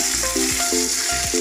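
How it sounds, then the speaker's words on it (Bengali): Chicken frying with onions in a pan: a steady, close hiss of sizzling oil throughout, with faint tonal sounds in the background. "চিকেনটাকে দিয়ে পেঁয়াজের সঙ্গে ভালো করে ভেজে নেব।"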